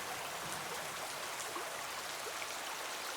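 Rain falls steadily, a dense even hiss of drops with no pauses, fairly faint and without voices.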